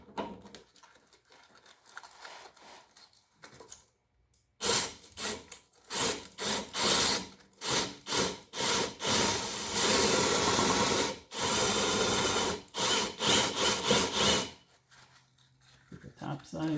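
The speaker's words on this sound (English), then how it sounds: "I'm going to spin it and at the same time put some sandpaper in here against the side of the wheel." Sandpaper pressed against a spinning rusted pulley on a lawn mower being restored, a loud harsh rasping scrape in long repeated strokes, with quieter talk before and after.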